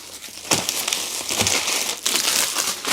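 Cellophane wrapping is pulled off a Wizarding World 10-film Blu-ray box set, giving loud, close crinkling and crackling in irregular bursts with sharp tearing rustles.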